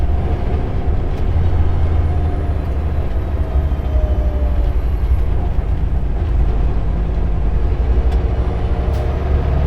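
Truck cab interior while slowing in city traffic on the way into Seattle, with a loud continuous low engine and road rumble and faint brake hisses throughout.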